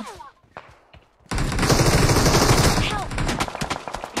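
Rapid gunfire in a battle royale shooter game bursts out suddenly and continues in dense, loud volleys, preceded by quieter scattered shots and players talking.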